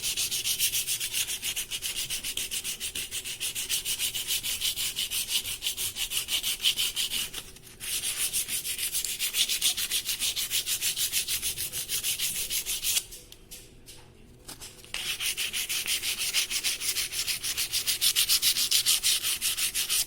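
Close, steady rasp of 220-grit sandpaper worked by hand over an aluminium motorcycle grab bar, dry, in rapid repeated strokes that continue with two short pauses, no voices.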